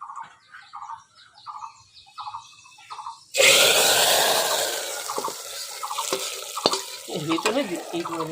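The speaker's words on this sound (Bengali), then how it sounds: "এবার দিয়ে দেবো 5 ফোড়ন" Panch phoron spices hit hot oil for khichuri with a sudden loud sizzle that follows faint bird calls and spreads into steady crackling frying, with occasional stirring clinks and no talk.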